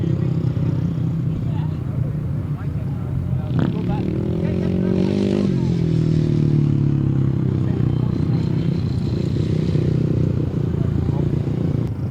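Grasstrack racing motorcycles at a 2008 British best pairs meeting roar past, one engine note rising and then falling as it crosses the finish line. A commentator talks over the steady background engine drone.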